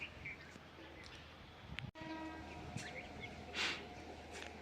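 A weekly express train passes at a distance. Its horn sounds as a faint sustained tone over steady rumble and rail noise, with birds chirping in the background.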